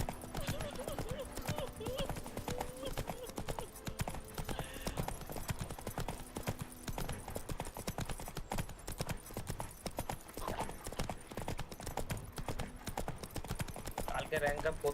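Roach the horse gallops along in The Witcher 3: Wild Hunt, a fast, continuous drumming of hooves with a brief whinny, while people talk over it the whole time.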